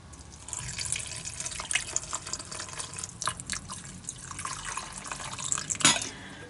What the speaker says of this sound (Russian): Добавлю водички.